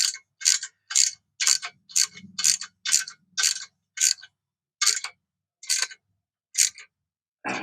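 Ratchet wrench tightening header bolts on a 1968 Ford F100 with a 460 engine, a series of short, crisp, evenly spaced clicking bursts close up, each pull a quick rattle of pawl clicks with brief pauses between, heard alone.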